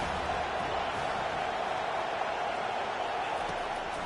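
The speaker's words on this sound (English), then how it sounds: "Decibels rising as the crowd gets behind this defense on 3rd down" A stadium crowd at a college football game roars in a steady, loud wash of cheering on a third down, with no break and no other sound rising above it.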